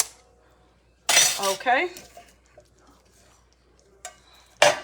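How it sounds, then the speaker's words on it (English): A spoon scrapes and stirs canned green beans into a casserole dish in a home kitchen, two short bursts of clinking, scraping stirring separated by quiet; a brief spoken word comes between them. "I'm going to dump those in and stir it all together."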